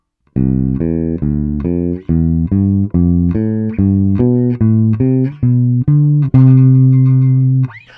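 A bright, sustained single-note instrument plays a quick run of short ascending note groups, ending on a held tone, clean and close without talk.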